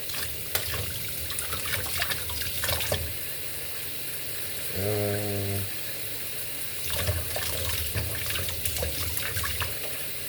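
Tap water runs over a spatula being scrubbed in a kitchen sink, a steady hiss broken by clattering handling noises, with a brief tonal squeak near the middle.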